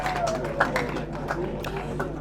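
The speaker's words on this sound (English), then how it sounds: "Clap for them." Audience applause at an inauguration and certificate presentation for the Youth Employment Agency in Ledzokuku: dense, steady clapping from a crowd filling the whole stretch, with a few sharper claps standing out.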